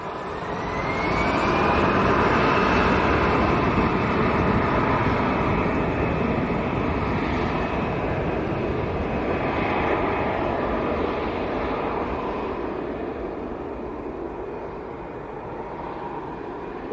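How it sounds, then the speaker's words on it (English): An EasyJet airliner bound for Belfast at Leeds Bradford Airport produces a loud, sustained jet roar with a faint rising whine. It holds steady for the whole span and then eases slightly toward the end. "Right, here we go, EasyJet to Belfast."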